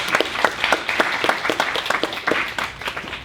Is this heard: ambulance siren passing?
no